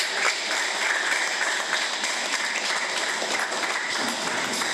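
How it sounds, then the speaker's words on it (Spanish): A congregation at a quinceañera mass in Acapulco applauds in a steady, dense wash of clapping that holds evenly for several seconds. "Le damos un aplauso."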